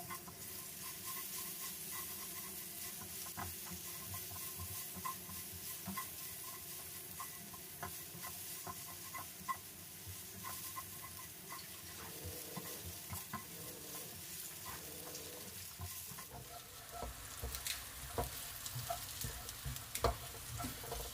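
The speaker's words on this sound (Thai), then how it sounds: "ผัด คลุกเคล้ากับหมูจนเหลืองหอมเลยนะครับ" Garlic stir-fried with pork belly in a pan makes a steady, close sizzle and crackle with frequent scraping of the spatula, running on for a long stretch and growing busier toward the end.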